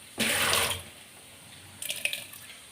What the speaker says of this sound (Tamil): தண்ணி ஊற்றி அடுப்பில் வச்சுருக்கேன்.